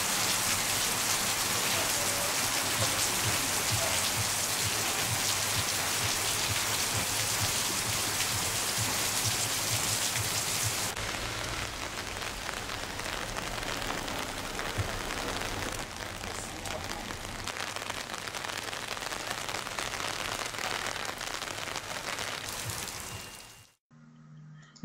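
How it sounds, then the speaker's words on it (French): Heavy tropical rain pours on Saint-Pierre-Saint-Paul church and its school in Guadeloupe, a dense, steady hiss of drops drumming on surfaces that eases slightly partway through before cutting off at the end. "Pluie tropicale sur l'église Saint-Pierre-Saint-Paul et son externat tenu par les sœurs de Saint-Joseph de Cluny."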